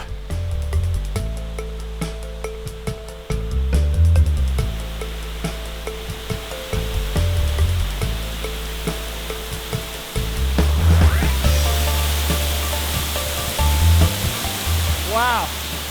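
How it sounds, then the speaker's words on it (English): Virgin Falls, a waterfall in Tennessee, roars with a steady, dense rush of water heard up close, loud and continuous throughout with no breaks. "we can definitely check out the waterfalls up close"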